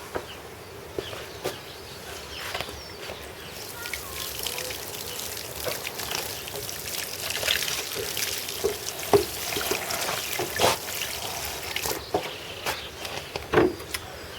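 Water from a watering can or hose pours and trickles onto potted plants in a greenhouse on a garden allotment, a steady soft splashing that runs on throughout with scattered small drips and taps.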